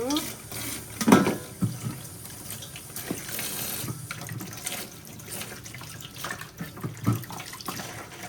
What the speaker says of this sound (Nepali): अब म यो बैगुनलाई मजाले पखाल्छु